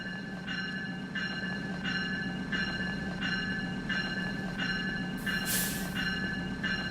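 A full train rolls along in Farming Simulator 25, steady rail rumble with evenly spaced clacks of wheels over track joints, continuous and close, with a brief burst of hiss near the end.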